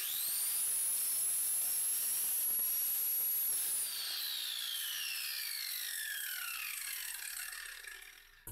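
A Black & Decker G720 820 W 4-1/2 inch angle grinder runs at a steady high-pitched whine, then is switched off and its tone slides steadily downward as it spins down.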